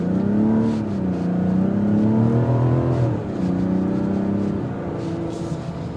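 A 2025 Mazda CX-70 3.3 Turbo accelerates from a stop, heard from inside the cabin as a loud, rising engine drone that climbs through the gears with brief dips at each shift.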